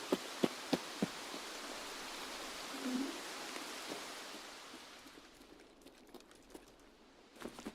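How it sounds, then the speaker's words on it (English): Loud rain hisses steadily in Escape From Tarkov near a power station, a broad wash of noise with scattered drips and taps, easing slightly toward the end. "I don't have to deal with the rain. Because the rain is really loud."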